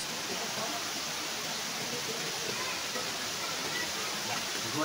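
Steady, dense rush of falling water at Gaas Falls, a constant broadband roar holding level throughout with no breaks.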